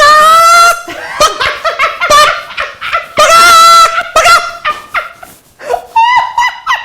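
A person imitating a chicken with their voice, bursts of clucking and squawking calls broken by laughter, loud and close.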